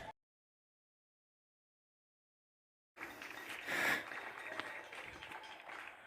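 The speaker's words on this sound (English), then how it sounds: "it's 8 o'clock and everyone in my area is clapping" A neighbourhood applauding for the NHS at 8 o'clock sounds as distant scattered clapping, faint and diffuse, after a brief sound and then silence.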